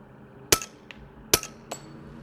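Two sharp, quiet cracks from a suppressed Volquartsen LLV .22LR target pistol, each followed by a fainter metallic click, spaced close together and heard alone.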